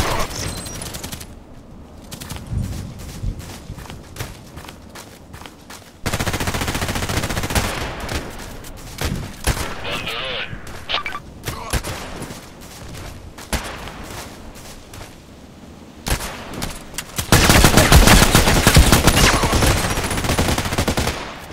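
Repeated bursts of automatic fire from an SR2M Veresk submachine gun in the video game Contract Wars, alternating between rapid strings of shots and brief pauses, with a loud sustained burst near the end.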